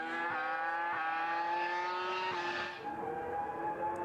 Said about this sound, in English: to hear it running with that beautiful BMW V10